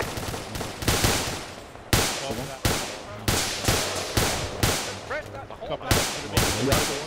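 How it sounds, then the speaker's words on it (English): Suppressive gunfire in a military shooter game: a string of loud, sharp shots fired in rapid, uneven bursts over about seven seconds, with brief gaps between volleys and a constant background rumble. "we are supplying suppressive fire"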